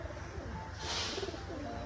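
Black Rajshahi pigeons coo softly in a brief, low burst close by, set against a steady background hum, with no voices.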